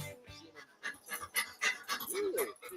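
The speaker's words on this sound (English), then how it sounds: "To some, this might sound like a typical family dog." A family dog in a Dog Chow commercial pants close up in quick, uneven breaths with faint whimpering, fairly quiet and alone with no talk.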